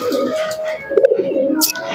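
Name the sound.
pigeons cooing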